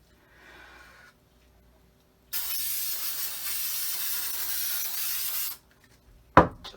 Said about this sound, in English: It's time to apply the spray adhesive.